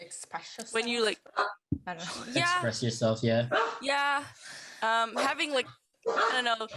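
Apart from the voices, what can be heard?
dogs barking after doorbell rang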